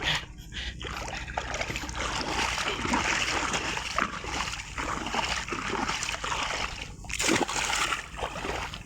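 A boat anchor dropped from a small boat into the sea, with sustained splashing and churning water, loud and close, plus a sharper splash burst near the end.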